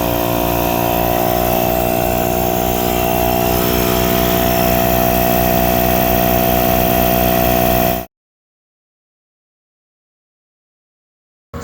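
A portable tire inflator compressor runs for about eight seconds with a loud, steady mechanical drone and buzzing harmonics, then cuts off abruptly into silence.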